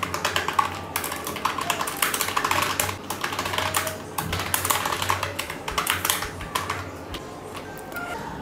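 Quick, irregular typing on a computer keyboard, keys clattering in bursts with brief pauses, close and fairly quiet with no talking.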